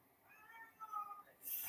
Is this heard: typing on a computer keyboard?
no